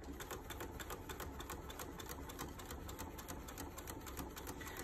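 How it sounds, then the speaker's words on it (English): Home sewing machine chain stitching quilt blocks together with a scant quarter-inch seam: rapid, even mechanical clatter at close range, running steadily throughout. "I'm going to chain stitch my blocks together"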